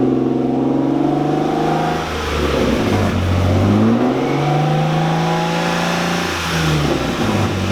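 A Lexus IS300 swapped to a manual gearbox accelerates hard through its gears, the engine note climbing loudly, dropping at each shift and climbing again, close and continuous without talk.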